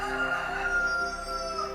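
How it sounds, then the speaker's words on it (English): A rooster crows in one long, loud, harmonically rich cock-a-doodle-doo held close and clear, with no voices over it. "Then the rooster crows."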